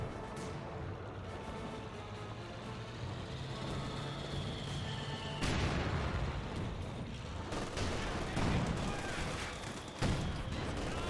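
A Pak 40 anti-tank gun and a Panzer IV fire in a Company of Heroes 2 battle, booming shots punching through a dense, continuous din of combat noise and engine rumble, with sharp reports repeating several times.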